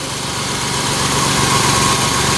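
A 2000 Ford Mustang V6 convertible's 3.8-liter Essex V6 idles close by, a steady, even hum with a fine rapid pulse and no revving, heard alone.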